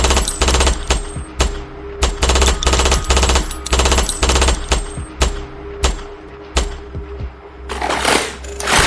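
Rapid bursts of machine-gun style gunfire sound effects in a game, loud and repeated in quick clusters across the whole stretch with short gaps, ending in a noisy blast.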